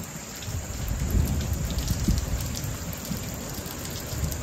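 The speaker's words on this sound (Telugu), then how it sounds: "చూడండి అసలు వర్షం ఎలా పడుతుందో బయట." Heavy rain pours outside through the night, a dense steady hiss with low rumbles of thunder underneath, heard from indoors at moderate level.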